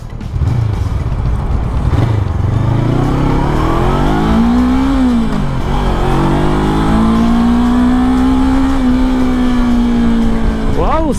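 A Honda NX 500 motorcycle engine revs and accelerates loudly and close by, its pitch climbing steadily through the gears for about eleven seconds.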